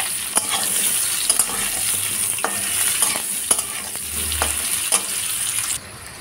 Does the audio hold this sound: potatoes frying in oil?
yes